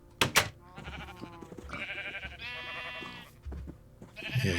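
Sheep in GregTech New Horizons bleat in several short, nasal calls, close and clear over faint background game ambience.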